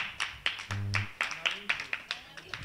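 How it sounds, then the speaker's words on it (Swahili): An audience at a debate claps hands in a quick series of sharp, separate claps, close and fairly clear, while a voice speaks over part of it. "Pigeni makofi jamani."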